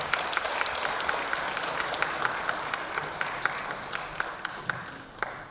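Seminar audience applauding archery champions from a traditional bow competition, a moderate round of clapping in a room with sharper individual claps popping out, steady for several seconds before tapering near the end.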